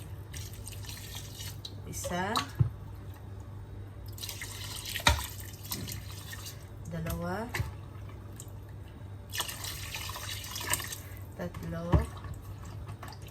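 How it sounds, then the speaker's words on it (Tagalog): Water splashes and trickles into a cooking pot in a home kitchen as chicken mandi is being made, with drips and small pours over a steady hum while someone talks and counts. "Maglagay tayo ng tubig"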